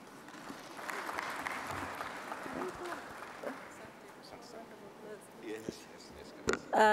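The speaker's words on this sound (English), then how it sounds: "a round of applause for Nancy" An audience at a Tanzanian ICT conference applauds, a soft, diffuse clapping that swells briefly then fades, with voices and shuffling noises rising over it toward the end.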